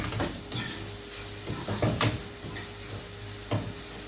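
Spice masala sautéed in a pan for fried cauliflower, with a spoon scraping and stirring through a soft sizzle; irregular metallic scrapes and clinks at moderate, close level, no speech.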